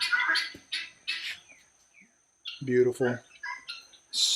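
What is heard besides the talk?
birds squawking near the house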